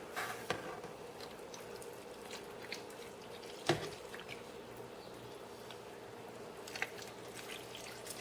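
Dye being poured onto soaked yarn, a quiet wet trickle and soft splashes with a few brief louder drips against a faint room background.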